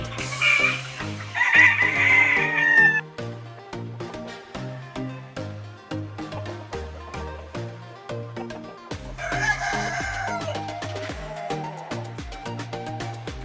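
Chickens clucking continuously with a rooster crowing loudly at the start and again partway through, over a steady rhythmic musical backdrop.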